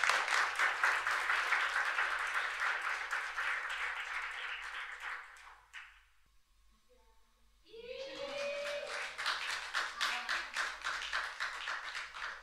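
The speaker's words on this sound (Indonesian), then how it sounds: "Kita berikan tepuk tangan." Audience applause at a release concert featuring an Indonesian songbook performance, a dense wash of clapping that fades out midway, leaves a brief lull, then swells again with sharper, rhythmic claps.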